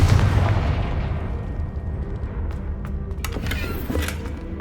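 Confringo fire spell blast in Hogwarts Legacy, a booming low-frequency explosion with a rumbling tail that stays dense throughout, topped by a few sharp crackling bursts near the end.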